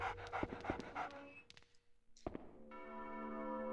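A dog pants in quick, rhythmic breaths up close in the video game Haunting Ground, followed by a couple of soft thumps and a steady tonal hum from the game soundtrack.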